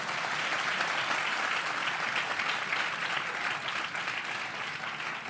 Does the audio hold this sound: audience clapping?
yes